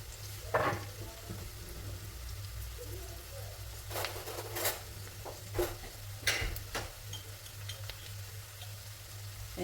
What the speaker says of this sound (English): I'm going to cook the onion, garlic and ginger for an extra 2 minutes.